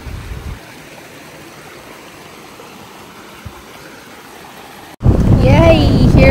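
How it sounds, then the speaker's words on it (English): Flowing river water on a Mt. Pinatubo hike makes a steady soft rushing hiss for about five seconds, then a sudden louder close-up section where a person talks over the water. "Ay, sarap pakinggan ng tubig na umaagos."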